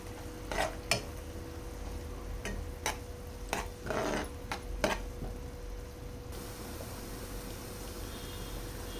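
Chopped onions frying in a pan with ginger paste as an egg and ivy gourd curry is made, a soft steady sizzle broken by a few sharp scrapes and stirring clicks, with no voices.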